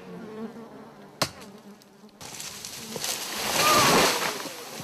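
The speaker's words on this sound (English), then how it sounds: "While Alberto smokes out the hive" Bees buzzing around a wild hive as it is smoked out, a dense insect drone swelling to a peak partway through, preceded by a sharp knock and quieter rustling.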